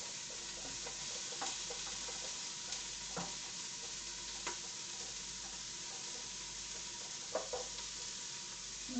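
Onion sizzling steadily in hot oil in an Instant Pot on the saute setting, a continuous close frying hiss with a few faint clicks and stirring knocks, no talking.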